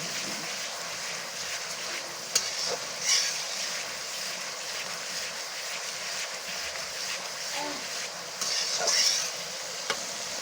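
Fish fries and is stirred in a pan with spices and greens, giving a steady close sizzle with occasional scraping stirs and brief clinks, no talk.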